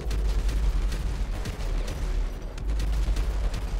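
Sniper fire in GTA 5 during chaotic combat: a rapid series of sharp gunshot cracks and booms over constant low rumbling game noise, fairly loud and continuous.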